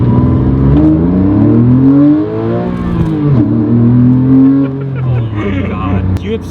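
A Porsche 997 Carrera S pulls hard in first gear, its engine note rising in loud, steady harmonic sweeps, dipping briefly at a shift point before climbing again, with voices talking over the engine.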